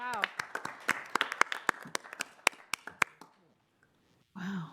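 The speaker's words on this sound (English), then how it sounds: "Will you come up here and we can give you a round of applause" A scattered round of hand claps rises from a small audience at an Arlington County Board meeting: sharp, separate claps with uneven rhythm that thin out. A brief pause follows, then a voice begins speaking.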